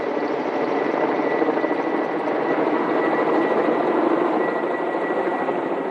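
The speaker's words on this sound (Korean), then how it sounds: "지금 헬리콥터가 한국타이어에 가고 있어요" A firefighting helicopter flies toward a burning Hankook Tire plant to drop water, its rotor and engine roar a loud, steady, continuous wash close by with no voices.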